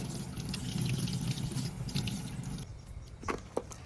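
Water runs steadily from a tap while mackerel fish are rinsed clean of blood through the gills and mouth, a close splashing flow that stops partway, leaving a few drips and small handling knocks.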